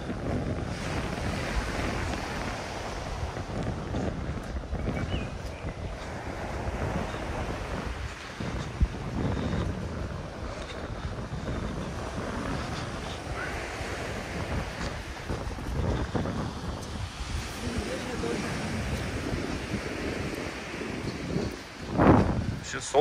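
Wind buffets the microphone on the Yuzhnoye Vzmorye beach in Adler while surf rumbles steadily underneath, with a person talking over the continuous noise throughout.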